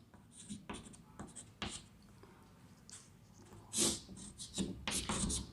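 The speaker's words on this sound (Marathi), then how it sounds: "त्याला लिहिताना बघा मी असं लिहितो आहे" Chalk scratches across a board as the ethanol formula CH3CH2OH is written out in a chemistry lesson, in a series of short, brisk strokes and taps with pauses between them.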